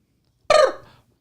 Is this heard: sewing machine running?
no